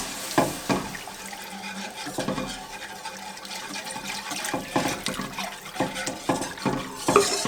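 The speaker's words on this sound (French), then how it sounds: "je vais ajouter mon eau. Donc il y a 350 ml d'eau" Water, 350 ml of it, is poured into a cooking pot while making a cauliflower gratin in a home kitchen, a steady splashing trickle with faint clatter throughout.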